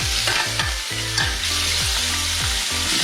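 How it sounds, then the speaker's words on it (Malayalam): Chicken pieces frying in olive oil in a hot pan, with a continuous loud sizzle and rhythmic scraping of a spatula against the pan throughout, no talking. "അതിന് ശേഷം നമ്മൾ ചിക്കൻ അതിലേക്ക് ഇടുവാണ്."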